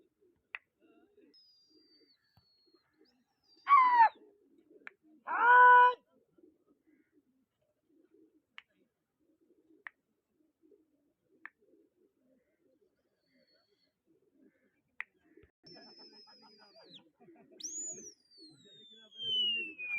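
Pigeons at a pigeon-flying competition give short bursts of cooing and calls against quiet open air, with sparse clicks and thin whistles between, and faint voices talking in the background.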